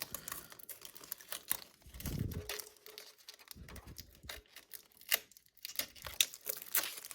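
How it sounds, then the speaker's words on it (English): Protective plastic film peeled off an EVGA GeForce RTX 3080 12GB FTW3 video card, close crinkling and tearing rustles with scattered ticks and soft thumps, no talking. "Now that it's in, take this plastic off."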